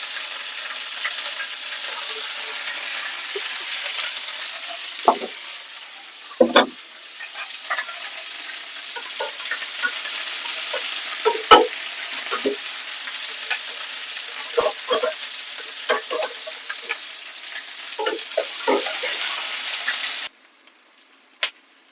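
Ginger garlic paste sizzles steadily in hot oil for chicken pepper fry, a continuous frying hiss broken by intermittent scraping stirs and a few sharper clicks, close and moderately loud, with no talking, cutting off near the end.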